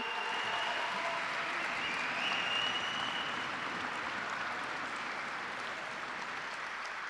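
A large audience at an autonomous vehicle unveiling event applauds steadily and densely for several seconds, a broad even wash of clapping with no talking over it.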